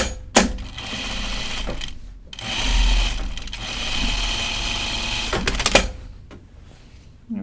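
Sewing machine topstitching fabric yokes, running in several steady bursts with brief pauses between them, close and fairly loud, with no talking.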